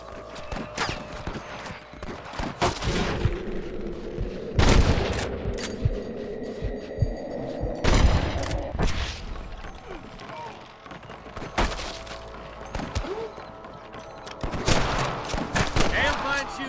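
Gunfire rings out in the Western video game Red Dead Redemption: several sharp, loud shots spaced a few seconds apart over galloping horse hooves and a steady background score, with voices talking in between.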